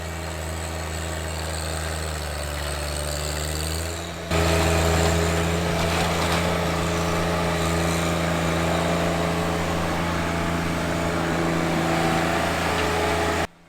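A Deere 1025R compact tractor engine runs at a steady drone while grading rough, sloped ground around a new pole barn. It jumps louder after a few seconds and keeps a constant, close throbbing hum with no voices.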